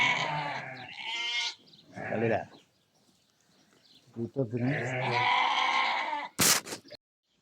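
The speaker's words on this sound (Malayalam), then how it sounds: "അപ്പൊ ഇതാണ് നമ്മളെ ആട് കേട്ടോ" A goat bleats several times nearby, loud wavering cries separated by short pauses, with a brief sharp noise near the end.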